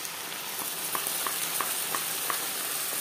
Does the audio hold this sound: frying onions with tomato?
yes